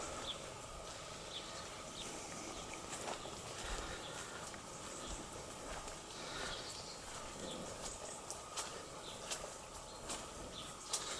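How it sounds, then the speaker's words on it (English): Birds chirp and sing in a cottage garden in scattered bursts, moderately distant, over a steady hiss of ambient background noise. "Hear the birds."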